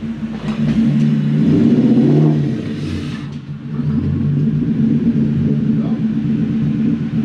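A Toyota Celsior (Lexus LS400) engine with an air-flow-meter fault revs up as the brake is released, a loud rumbling surge followed by a steady idle. People talk over the engine throughout.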